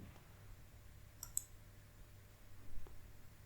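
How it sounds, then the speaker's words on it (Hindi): One faint, crisp computer mouse click stands out against a quiet room hum, with a softer tick shortly after. "हम अपलोड प्लगइन पर क्लिक करेंगे"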